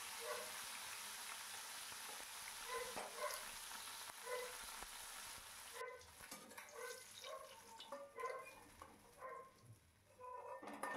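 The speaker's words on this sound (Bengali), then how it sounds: "এবারে একে একে মাছগুলো আমি ভেজে নিচ্ছি" Vetki fish fillets fry lightly in a pan for a Bengali jhal with eggplant, giving a soft, fairly faint sizzle and spatter that continues throughout, with a few scraping sounds later.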